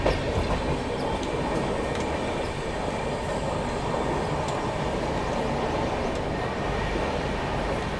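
A Palace Queen Humsafar Express hauled by a diesel locomotive pulls into Mandi station on the main line platform at speed, a steady loud rumble of wheels and carriages with rhythmic clickety-clack throughout and no talk.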